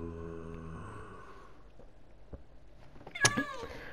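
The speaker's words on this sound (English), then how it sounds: "Oh, yo, there's a cat!" A cat in the video game Minecraft meows, a short tonal call near the end standing out clearly over faint game ambience after a steady background tone fades.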